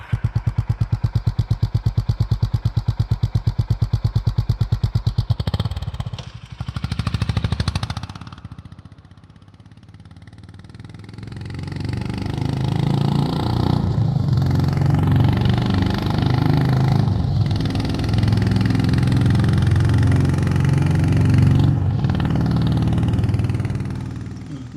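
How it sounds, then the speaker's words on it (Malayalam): A Honda H'ness CB350 single-cylinder long-stroke engine thumps in a rapid, even idle, then drops away and swells back in a loud, sustained rumbling exhaust note that seems to move around the listener. "അതൊരു സിംഗിൾ സിലിണ്ടർ ലോങ് സ്ട്രോക്ക് എഞ്ചിൻ്റെ സൗണ്ട്, അതിങ്ങനെ സറൗണ്ടിൽ കേൾക്കാം, 8D കേൾക്കാം"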